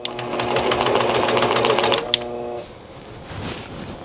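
A longarm quilting machine stitches canvas in manual mode, a fast steady motorized needle chatter that runs loud for about two seconds, then stops with a click before quieter handling.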